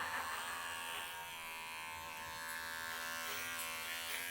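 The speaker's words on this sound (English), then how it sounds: "just going to lightly shave in his ear" Electric clippers buzz steadily as they lightly shave inside a standard poodle's ear during grooming, a close, even hum with slight shifts in pitch and no talk over it.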